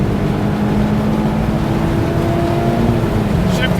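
Engine of a 2024 Mazda MX-5 Miata ND3 pulling hard at full throttle with a steady, loud drone and a rising tone up to a 7,500 rpm shift, heard from inside the car over road noise.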